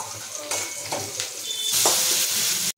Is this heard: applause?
no